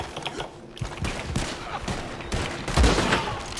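Video game gunfire in a continuous burst of rapid, overlapping shots at close range, steady and loud throughout with a heavier thump near the end.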